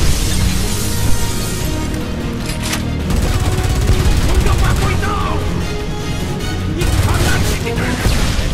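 Gunfire and booming cannon fire in the war shooter Homefront: dense, continuous rattling volleys and heavy blasts fill the whole stretch, loud and close, with soldiers shouting over the battle.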